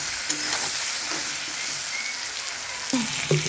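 Hilsa fish with potato and eggplant sizzles steadily as it fries in a pan, with occasional louder scraping stirs near the end; continuous close frying hiss, no talking.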